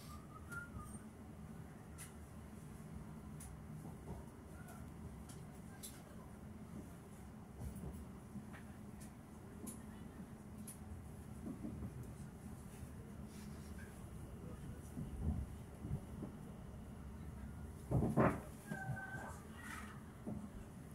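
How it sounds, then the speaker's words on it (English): A train pulling into Southend Victoria station, its low steady rumble running throughout with brief rail squeals and clatter building near the end as it slows. "We are now approaching Southend Victoria, where this train terminates."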